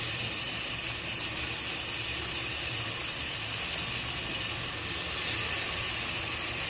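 Two or three chopped tomatoes sauté in a pan for duck biryani, making a constant broad hiss that stays level and close throughout, with no voices.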